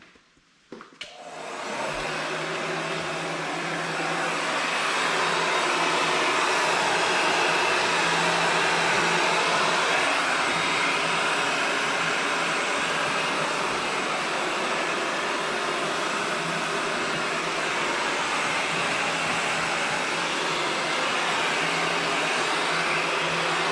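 A heat gun blows hot air onto window tint film inside a Chevrolet Silverado, a loud, steady whooshing roar that starts with a click and runs unbroken for over twenty seconds, with no voices.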